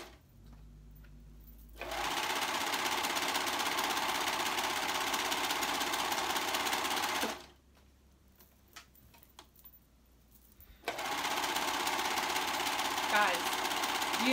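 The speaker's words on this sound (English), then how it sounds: "now I'm gonna go ahead and serge that seam" A serger sewing machine runs in two long bursts while stitching a seam on a flounce tee, with a loud steady mechanical whir broken by a short quiet pause between runs.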